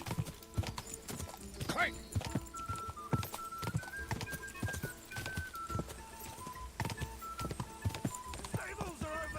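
Horse hooves clip-clop in a quick, steady trot, loud and close with sharp regular knocks, while voices call out and a horse briefly whinnies.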